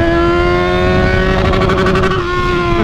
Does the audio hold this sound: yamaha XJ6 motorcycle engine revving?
yes